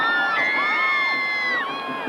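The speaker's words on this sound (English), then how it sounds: "And this crowd is going crazy." A football stadium crowd cheers and screams after a long kick return, a loud sustained roar with high shrill whoops rising and falling throughout.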